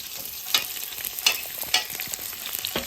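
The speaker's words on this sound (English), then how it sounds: "we've got a bit of sizzling now, people" Continuous sizzling of onions and Scotch bonnet pepper in a hot pan, with a few sharp crackles and spatters popping through at irregular moments.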